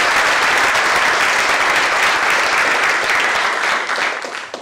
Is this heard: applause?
yes